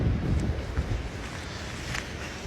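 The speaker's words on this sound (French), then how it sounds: "Je vous ai parlé du vent qu'il y avait dehors." Strong wind buffets the microphone outdoors with low rumbling gusts, plus faint rustling and a few scuffing steps.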